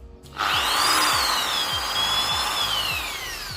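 A Bosch power drill in normal drill mode spins up quickly and holds a loud, steady whine for about three seconds, close by, with a low rhythmic rattle underneath.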